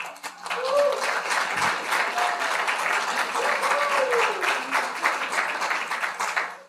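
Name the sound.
audience clapping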